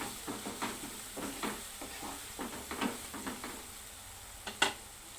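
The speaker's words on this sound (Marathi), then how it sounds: "आणि हळद थोडीशी टाकायची आहे। छान असं परतून घ्यायचंय।" A mixed vegetable bhaji with turmeric is sautéed and stirred, a quiet sizzle under a run of soft, rhythmic scrapes and clinks from a spoon against the pan, close by.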